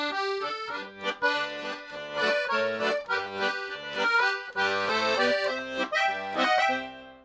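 An accordion plays a flowing melody with chordal harmony and quick decorative notes, continuous and full-toned, no voices.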